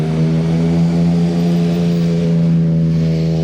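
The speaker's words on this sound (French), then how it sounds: "On a eu le bruit de la moto derrière comme si c'était le bruit de la voiture que je filmais." A motorcycle engine idles or runs steadily in the street nearby in Monaco, a low droning hum with strong even harmonics that holds level throughout, with no talking over it.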